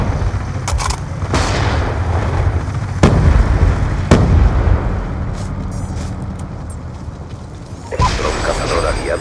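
Gunfire and explosions in the video game Black Ops II: sharp, loud individual shots and blasts scattered over a rumbling battle background, with a burst of rapid fire near the end and game voices in between.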